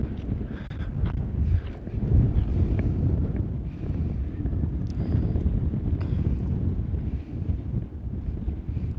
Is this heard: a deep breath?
no